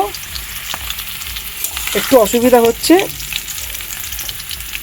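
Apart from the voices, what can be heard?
potatoes frying in a wok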